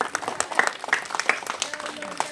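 Scattered clapping from a small group outdoors in a village during a magic show, light and irregular, with voices and chatter mixed in underneath.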